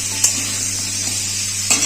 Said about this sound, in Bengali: বড়ি দিয়ে ভেজে নেবো আলু দিয়ে দিয়েছি